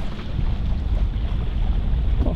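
A single-handed sailing yacht racing in light wind: a steady, loud wash of wind over the microphone blending with the low rush of water along the hull, with no talking.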